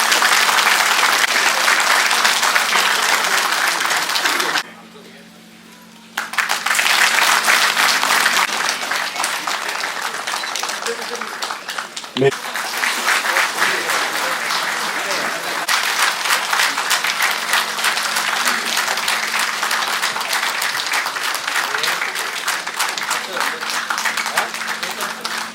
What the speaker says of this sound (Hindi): तालियों की जो गूंज है वो कमनी नहीं चाहिए बल्कि बढ़नी ही चाहिए।